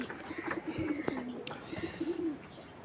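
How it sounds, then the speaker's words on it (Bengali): Pigeons just let out of their cages coo in a low, repeated rhythm at close range, with a few sharper calls and soft rustling between the coos. "এই যে নরগুলো ছাড়া হলো, নরের কেসটা আর কি খুলে দিলাম।"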